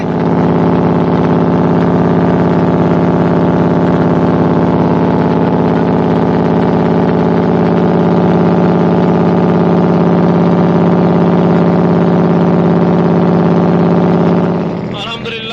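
Engine of a small passenger launch boat in Bangladesh, a loud steady droning hum that runs unbroken throughout and shifts slightly right at the end.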